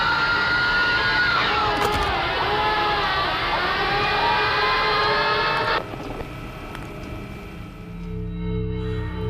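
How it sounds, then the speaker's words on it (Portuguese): Children's screams of suffering and pain in the video game Showman's The Awakening: a dense, loud wash of overlapping high shrieks that cuts off abruptly, leaving a low, dark rumbling drone behind. "Você escuta gritos de sofrimento e dor."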